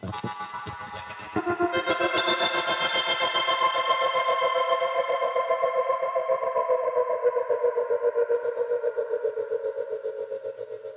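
An electric guitar plays through a Supermassive reverb pedal with whammy bar bends, a swelling, heavily effected sustained tone with echoing repeats that drift and pitch-bend, ringing alone and fairly loud for the full stretch.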